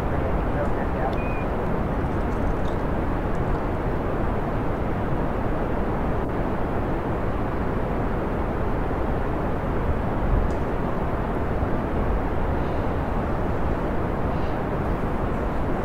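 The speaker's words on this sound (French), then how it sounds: "qu'est-ce que c'est que cette fusée qui décolle pas?" Rocket engines at liftoff in the Kerbal Space Program video game, a loud, steady, broadband roar that holds without a break from start to finish.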